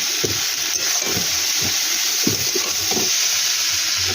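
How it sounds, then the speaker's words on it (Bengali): Maggi noodles fry in a pan with egg, onion and tomato, giving a loud, steady sizzle with occasional scraping stir strokes, close up and without talk. "দেখো এখন ভাজা ভাজা করব।"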